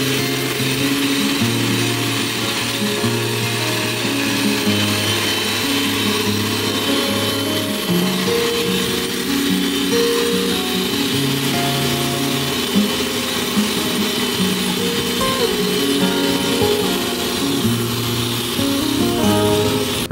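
Cable lug being sawn off during camper van wiring work, a continuous loud grinding, rasping cut that holds steady and close throughout with shifting tonal whine and no talk.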